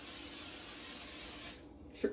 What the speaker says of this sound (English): So I have a steamer, and I spray my steamer